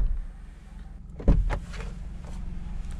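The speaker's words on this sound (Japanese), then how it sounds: "ドア閉めた音聞いてみましょう。" A single solid thunk of a 2020 Suzuki Hustler's door shutting, preceded by a faint mechanical whir, with a low idling rumble underneath.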